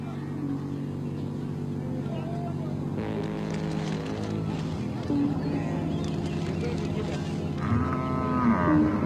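Cattle low and moo at a Mundari cattle camp in South Sudan, several deep drawn-out calls overlapping at close to mid range over a background hum.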